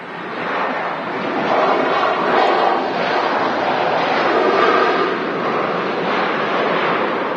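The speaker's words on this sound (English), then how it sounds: "EasyJet to touchdown from Venice" An EasyJet airliner arriving from Venice touches down at Manchester Airport, a loud, steady broadband roar of engines and rushing air that holds for several seconds with no voices.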